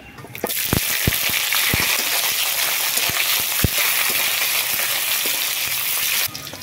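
Chopped onion drops into hot oil already tempered with bay leaf, whole dried chilli and five-spice, setting off a loud, steady sizzle with a few sharp knocks of a spoon against the pan, and no one talking.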